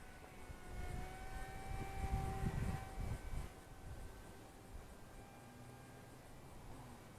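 An Eachine Mini Wing Dragon 540mm 4CH RC gyro plane with a new motor and prop flying outdoors in light wind, a thin whining motor tone passing fairly close then fading over wind noise.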